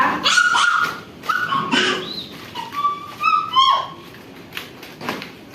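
A dog gives a series of high-pitched yips and whining cries close by, rising and falling in short bursts.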